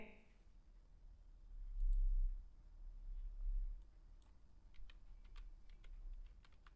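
Keystrokes on a computer keyboard, with a cluster of quick light clicks near the end that fits a final Enter press; faint and close, over a low room hum, with no voices.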